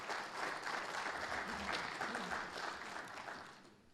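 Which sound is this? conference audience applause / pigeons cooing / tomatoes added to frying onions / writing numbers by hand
conference audience applause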